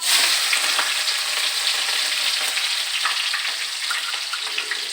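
Mustard seeds, curry leaves and green chillies fry in hot oil with a steady, loud crackling sizzle and scattered pops, continuous throughout with no voices.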